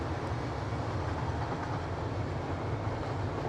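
A train in Satisfactory rolls along the track with a steady, dense rumble and rattle, close and unbroken, no voices over it.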